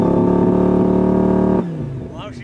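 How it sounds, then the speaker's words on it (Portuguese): An Audi R8 runs at high revs under launch control, a loud sustained engine drone that cuts off abruptly, followed by a lower, fading mechanical sound. "Launch control, mano."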